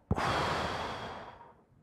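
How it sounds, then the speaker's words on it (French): A single deep breath taken during a guided breathing exercise, a sharp intake followed by a long, airy exhale that fades out over about a second and a half, close and alone. "Alors, une respiration."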